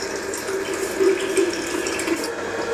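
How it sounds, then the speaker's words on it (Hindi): Water driven by a motor pump gushes steadily into a bucket, a continuous close rushing fill with no voices. "तो हम मोटर चालू कर लिए हैं, बाल्टी में पानी डाल रहे हैं"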